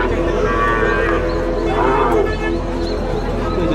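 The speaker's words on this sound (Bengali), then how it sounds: "এখনো গরু আসতেছে" Cattle lowing at a busy rural livestock market in Nilphamari, a loud drawn-out moo rising over dense crowd murmur and background chatter.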